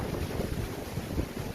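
Huge waves roar along the East Sea coast at Simgok, Gangneung, in a dense, continuous rumbling wash heavily buffeted by wind noise on the microphone.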